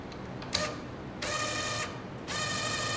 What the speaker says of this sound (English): Slowly wind it. Winds underneath each other.